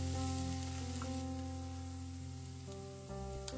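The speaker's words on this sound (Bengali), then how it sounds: "সবজিগুলোকে হালকাভাবে একটু ভেজে নিয়ে 2টো ডিম ভেঙে দেব।" Vegetables frying lightly in a pan at home, a steady close sizzle that stays even throughout, with gentle music playing underneath.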